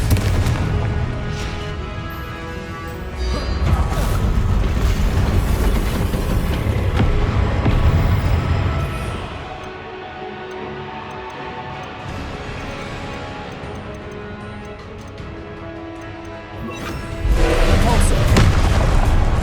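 Confringo spell blasts in Hogwarts Legacy combat, heavy booming explosions in repeated bursts with rumbling tails, loud and close, separated by quieter stretches of game noise and speech.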